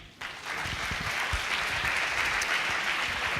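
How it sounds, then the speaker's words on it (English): Steady applause from a large audience, a dense wash of clapping that starts abruptly and holds evenly, with no voices on top. "please give a warm round of applause to George Kroupis from Stoiximan."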